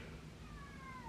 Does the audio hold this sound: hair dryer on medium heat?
no